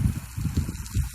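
Water from a solar-powered pump on a ranch gushes in a steady, churning rush with low pulsing surges, close and fairly loud, with no talking over it.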